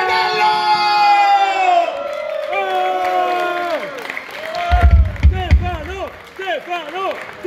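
Crowd at a live metal concert in a Milan club cheering, whooping and shouting with some clapping mixed in, voices rising in loud waves and separate calls standing out near the end.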